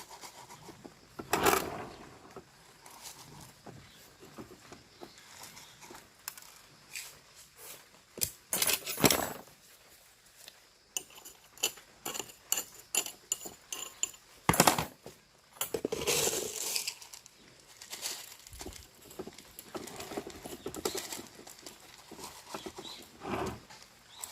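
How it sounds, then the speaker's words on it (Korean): Fine gravel is poured and scattered into a succulent pot in uneven bursts of gritty patter and rattling, with short pauses between pours, close and fairly quiet, no talk. "잔마사로 안쪽에다 조금 채워주도록 할게요."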